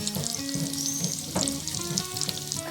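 Chicken samosas frying in oil over a medium flame, a continuous close bubbling sizzle with small crackles and faint clinks throughout.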